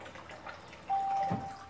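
Alkaline water pours from a water ionizer, a short soft splash and trickle that begins faintly and then strengthens into a steadier stream about midway.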